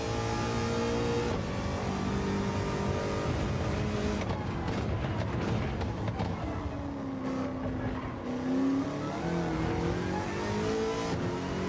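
An American muscle car engine roars and revs in a racing video game, rising and falling in pitch as the car brakes and accelerates around a track, loud and continuous with no talk.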